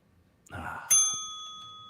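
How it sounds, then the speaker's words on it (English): A single bell rings sharply with a bright metallic ding, its tone ringing on and slowly decaying after a brief burst of rustling handling noise just before the strike. "That's the bell now."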